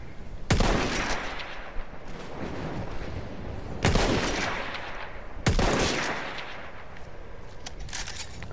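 Gunfire on a bridge: three heavy, booming blasts spaced a few seconds apart, each followed by a rolling echo, close and loud with a low background rumble between them.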